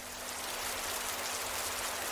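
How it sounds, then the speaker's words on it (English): A steady hiss of rain from a website's ambient sound mixer, soft and even, with no voices over it. "So if you want to add some rain, you can hear it."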